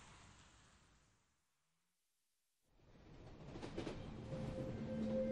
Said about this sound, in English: After 14 sleepless hours on the train, Fred and Orla arrive in the early morning into Nizhny Novgorod.